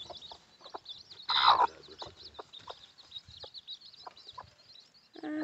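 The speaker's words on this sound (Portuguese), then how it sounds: "Aqui estão os 9 pintinhos. Estão bem pequeninos, porque nasceram ontem." A hen clucks softly beside nine chicks hatched the day before, which cheep in high, rapid peeps throughout, with one louder squawk near the start.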